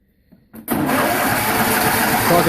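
A John Deere 210 or LA150 lawn tractor engine cold starts after a brief quiet moment with a few faint clicks, catching abruptly and settling into a steady, loud running rumble nearby.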